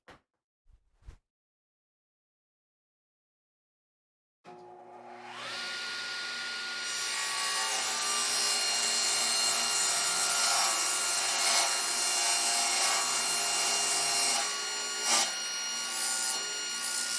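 A power saw cuts a 1/4 inch off a wooden piece for a laptop stand, starting abruptly after a few faint knocks and near silence, then running as a loud, sustained whine with steady grinding through the wood.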